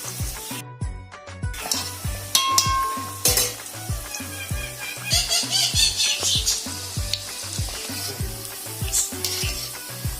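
Soya chunk vadai frying gently in hot oil over a low flame, with a soft, continuous sizzle and repeated light clinks and scrapes of a utensil turning the pieces.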